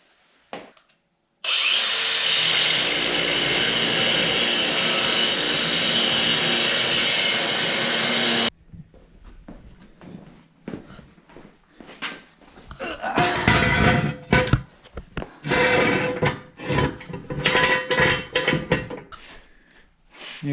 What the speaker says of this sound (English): But, got a new cordless angle grinder.